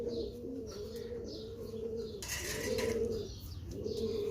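Rampuri pigeon, a long-bodied breed, cooing in repeated low throaty bursts close by, with some bird chirps and a brief wing flutter around the middle.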